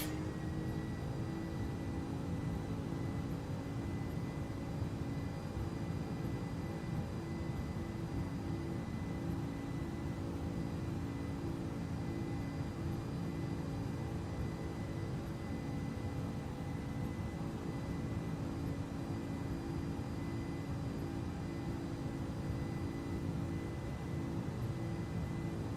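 Boeing 767-300ER engines at takeoff thrust in X-Plane 11, a dense, loud and constant roar with a steady whine on top, sustained throughout without any voices.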